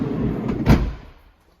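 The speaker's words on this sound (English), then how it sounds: "There are also power closing doors on these, so as you pull it in close, if it isn't quite shut, it will just pull the door in itself" A Volkswagen Caravelle long-wheelbase van's power-closing sliding door rumbles along its track and thuds shut, then the sound fades away; no one speaks.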